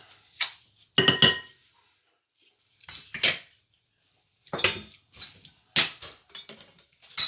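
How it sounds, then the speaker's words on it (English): Mixing utensils and dishes being gathered from a kitchen counter and set in the sink during cookie baking: repeated clinks and clatters of cutlery, bowls and glass in separate bursts with quiet gaps between. "Get all our mixing stuff off the counter. To the sink."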